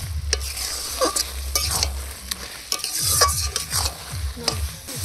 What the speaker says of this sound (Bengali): এক কড়াই কচু শাক কষে দেখুন অল্প একটু হয়ে গেছে,